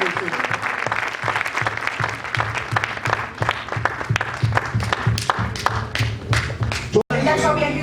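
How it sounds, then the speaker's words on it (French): An audience at a church gospel campaign event applauds enthusiastically for Jesus, with a dense, steady rattle of clapping under a voice, broken by a brief cut near the end. "Est-ce qu'on peut acclamer très très fort le roi de cette élection?"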